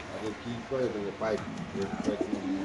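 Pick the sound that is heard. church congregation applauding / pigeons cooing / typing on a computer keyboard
pigeons cooing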